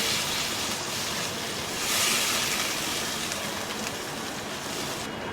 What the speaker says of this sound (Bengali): ঝোলটা খুব ভালো মতো ফুটে উঠেছে, আবারও আমি নেড়ে দেব।